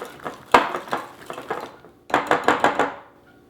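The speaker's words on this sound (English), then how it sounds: "Put the milk in there. And we'll give that a good whisk." Milk being whisked into blackberry cobbler batter in a bowl: two bursts of quick, rhythmic scraping and tapping strokes against the bowl, moderately loud and close, with no talk.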